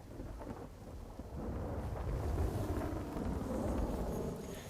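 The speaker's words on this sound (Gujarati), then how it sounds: "આ પંથકમાં પણ ધોધમાર વરસાદની શરૂઆત જોવા મળી રહી છે" Heavy monsoon downpour with thunder in Gujarat: a continuous low roar of rain and rumbling that swells slightly partway through, with some wind buffeting the microphone.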